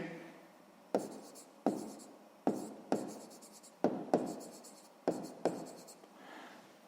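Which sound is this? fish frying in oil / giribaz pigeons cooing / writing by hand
writing by hand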